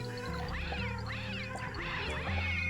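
Harsh synthetic cat meows in the video game Braid, several rising-falling wails repeating over steady game music.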